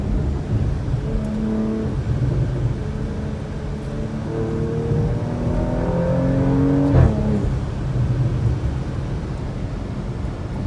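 A 2021 Porsche Macan GTS with its 2.9L engine and PDK gearbox accelerates hard in manual mode, its engine note rising steadily through the gears in a loud, continuous interior drone.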